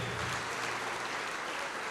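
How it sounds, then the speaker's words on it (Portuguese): A church congregation applauds during a televised service, a soft, even wash of distant clapping that holds steady without pauses. "Vamos aplaudir muito."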